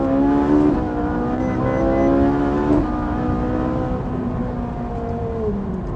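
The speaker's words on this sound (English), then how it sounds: "Do you want to hear some engine noise?" A Ferrari 458 Italia V8 revs hard, its engine note climbing and dropping through several sweeps, loud and close with no talk over it.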